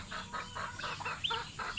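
A few chickens cluck in short, repeated bursts close by in midday heat, a soft rhythmic clucking with no talking.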